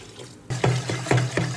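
About a litre of water pours and splashes into a pot, starting abruptly and running with a gurgling, pulsing rhythm, close by.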